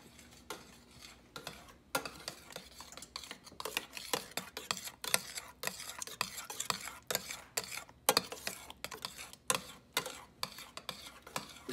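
Spoon stirring melted cheese in a non-stick pot over medium heat, giving soft irregular scrapes and taps in a quiet kitchen, close but faint.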